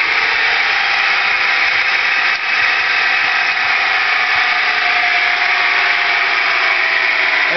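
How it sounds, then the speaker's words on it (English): A heavy cast-iron flywheel, fitted alongside a new SPEC clutch, spins down on its own with a steady whirring hum that holds evenly, close and loud. "one of the nice things about the heavy steel, or iron in this case, flywheel, is that it keeps spinning for a pretty good long time"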